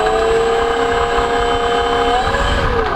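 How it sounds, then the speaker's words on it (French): A small model aircraft motor spins steadily during a bench test, giving a loud, continuous whine with stable tones that dip slightly in pitch near the end. "On va tester un petit coup le moteur."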